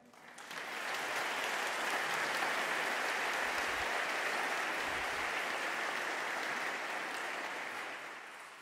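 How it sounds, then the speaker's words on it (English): An audience at an EU Christmas concert applauds the Belgian Embassy Choir, a broad, even wash of clapping that rises quickly, holds steady for several seconds and then tapers off. "A warm applause for our colleagues from the Belgian Embassy Choir."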